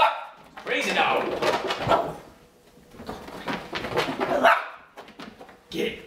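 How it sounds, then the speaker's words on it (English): An excited dog chasing a laser pointer around a room lets out short barks and yips in uneven bursts, close by, mixed with a person talking. "Crazy with that laser. Crazy dog."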